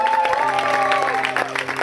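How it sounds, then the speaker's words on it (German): Applause at an outdoor award ceremony on a festival stage, a dense burst of clapping from a crowd heard close, with an amplified voice and some tonal sound running under it. "Wir brauchen noch mehr Applaus"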